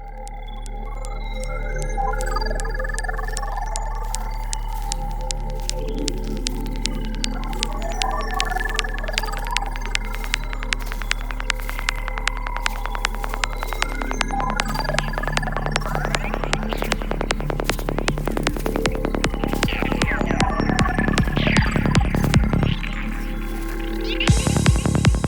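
A psytrance intro builds from a warbling, virus-like synth over a steady deep hum, with a driving atmospheric pad slowly fading in, rapid rhythmic ticks growing denser and louder before a sudden low drop near the end.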